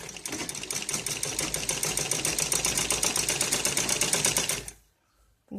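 A sewing machine runs in one continuous rapid stitching burst through net cloth for a ladies' suit, loud and close, then stops abruptly into near silence before a faint resumption.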